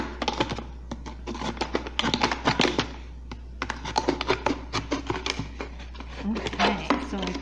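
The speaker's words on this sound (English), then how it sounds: "I'm just going to use my knife to cut off the very bottom of the bottle" A knife cuts through the bottom of a plastic bottle for a wind-catcher craft, giving a run of close, crisp tapping and crunching clicks in two bursts with a short pause between them.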